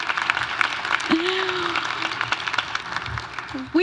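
Audience applause for 2026 graduates at an Asian student celebration, a steady wash of many hands clapping throughout, with brief voices and a sustained tone underneath.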